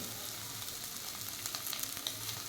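Mutton liver frying in a pan gives a steady, close sizzle with faint crackles and occasional spatter pops, running alone without any voice.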